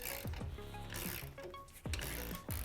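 A ratchet socket wrench tightens a bolt while a lift kit is fitted to a 2018-2020 Jeep Wrangler JL, quick rhythmic mechanical clicking strokes close up with short pauses, no talking.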